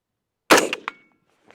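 A Delta Team Tactical DD-15 rifle shot strikes a steel target at 100 yards, giving one sharp, loud clang with a quick ringing decay, followed by a faint, brief tick.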